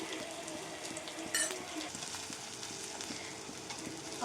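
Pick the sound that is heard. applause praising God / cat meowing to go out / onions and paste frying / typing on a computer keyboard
onions and paste frying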